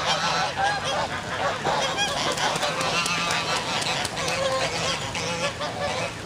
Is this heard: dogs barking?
no